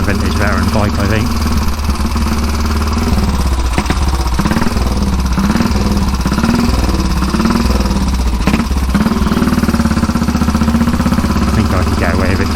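A vintage Velocette KTT motorcycle rides through traffic from Burley to Lyndhurst, its engine throbbing loud and close without pause while someone talks over it.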